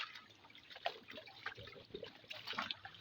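Water trickles and drips steadily from a pipe into a stream beside a bamboo grove, a faint, close, continuous splashing with scattered droplet sounds.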